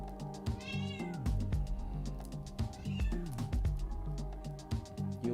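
A hungry house cat meows repeatedly at close range, several insistent rising and falling cries in quick succession over a few seconds, alone without talk.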